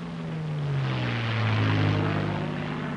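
A P-51 Mustang fighter's piston engine drones steadily through a dive, its pitch sliding gradually lower as the sound swells and then eases, heard moderately near with no speech.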